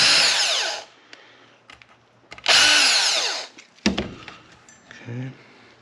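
Two loud bursts of a power drill whirring at high speed, removing screws from a Suzuki DRZ400S carburetor, separated by quieter clicks and handling noises, with a short lower whir near the end.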